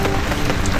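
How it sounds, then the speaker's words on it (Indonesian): Heavy rain pours at night over a camping ground at Bukit Tengtung, Baturraden, a dense, loud, continuous patter close by with no speech. "sambil menikmati suasana hujan malam ini"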